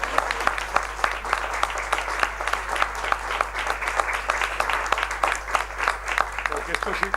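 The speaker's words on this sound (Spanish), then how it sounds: "Porque esto sí que merece realmente un aplauso porque lo han hecho muy bien" An audience applauds warmly, dense, rapid hand claps forming an even, sustained patter at moderate distance that carries on for several seconds without a break.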